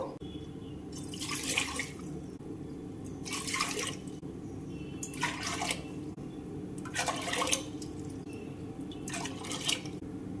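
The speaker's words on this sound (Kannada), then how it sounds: "ಐದು ಕಪ್ ನೀರು ಹಾಕಿದೆ ನಾನು." Water being poured into a pressure cooker for cooking rice, with several separate pours of splashing and trickling heard close up over a steady low background hum, with no speech.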